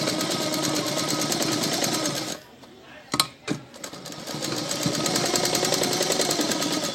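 A sewing machine runs steadily while joining a sleeve to the back piece of a garment, its close motor whir broken by a short pause and a few sharp clicks before the stitching resumes.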